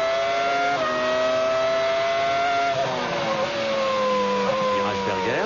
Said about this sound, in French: Regardez la caméra embarquée de la Ferrari d'Irvine.